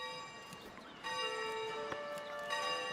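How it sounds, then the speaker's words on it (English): A church bell in the medieval city-builder game Foundation rings with sustained metallic tones, repeating a few times over a soft steady background. "That church bell sounds too much like a damn trolley."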